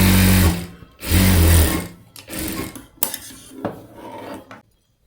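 A sewing machine stitches the lining onto a blouse sleeve in two loud, close bursts of rapid whirring, then fainter clicks and fabric handling follow before it falls quiet.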